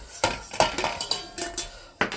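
Vintage metal camping pots, a frying pan and a kettle clank and clatter together in a quick series of sharp knocks and rattles, close by.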